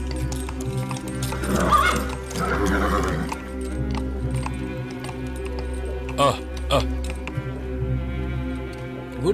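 A frightened horse whinnies and its hooves clip-clop on hard ground at an inn in a horror film, the sounds fairly near over steady low background ambience, with people talking.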